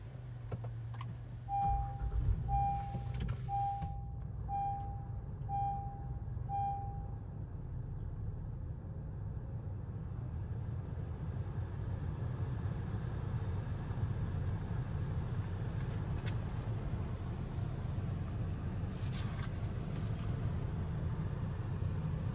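A 2017 Honda Ridgeline started with its dash-mounted button: a short run of evenly spaced electronic chimes, then a steady low idle rumble that continues alone to the end.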